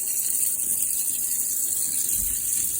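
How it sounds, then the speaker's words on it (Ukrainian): Water runs steadily from a tap in a village house once an electric water pump switches on, a continuous hissing gush with no breaks, close and moderately loud, with a faint low thump near the end. "включився насос, пішла водичка."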